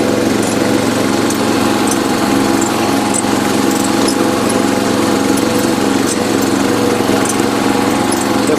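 Engine of an abandoned John Deere 111 garden tractor running, a loud, steady droning hum with constant vibration and no pauses, heard close up.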